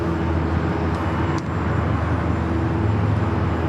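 Delta Airbus A330neo jet taking off from the north side at LAX, bound for JFK, a steady distant roar of engine rumble held throughout with no speech.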